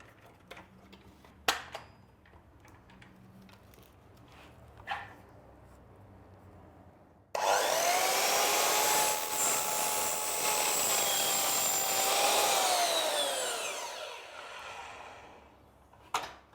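A drop saw trims the end off a wooden corner piece at 0 degrees, spinning up abruptly and whining loudly through the cut for about seven seconds before winding down, after a few light knocks of handling.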